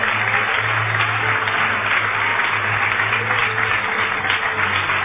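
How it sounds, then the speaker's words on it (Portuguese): A church congregation breaks into sustained applause, a dense, steady wash of clapping that holds evenly for the whole stretch with no voices standing out. "Vamos aplaudir mais o Senhor Jesus."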